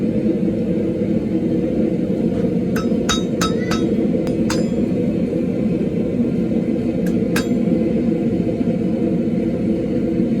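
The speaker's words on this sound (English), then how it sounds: "I got my makeshift hammer here, I can adjust it out a little bit" Several sharp metallic taps from a makeshift hammer adjusting a metal hook on a BBQ grill steak turner, in a quick burst, then two more a few seconds later, over a loud constant low rumble.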